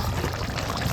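Jackfruit curry with coconut and garam masala paste is poured out of the pot in one continuous, close, wet pour lasting about a second.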